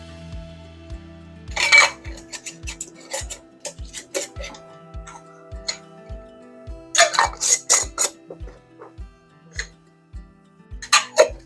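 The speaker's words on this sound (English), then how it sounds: "you're gonna wanna get your lids on and tighten them fingertip tight" Metal lids screwed onto glass canning jars being packed with raw chicken or rabbit, heard as short bursts of clinking and scraping at three moments, with quiet, steady ticking between them.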